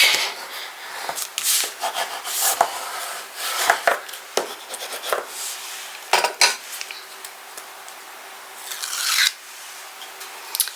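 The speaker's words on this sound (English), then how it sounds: "So I'm just going to burnish those down real quick." Glued paper pieces for a Halloween album are burnished down with a tool, producing close, dry scraping and rubbing strokes in quick irregular bursts, some sharp and some drawn out, with short pauses between and no talking.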